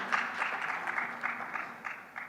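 Audience at a panel discussion on green policy and finance in India claiming with a dense, steady applause for a couple of seconds, moderately loud and fairly close.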